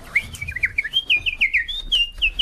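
A bird sings a bright run of clear, quick whistled chirps and warbling notes, close and distinct over a faint low background rumble.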